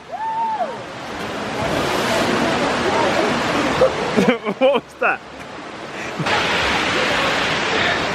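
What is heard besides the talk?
waterfall in Paraty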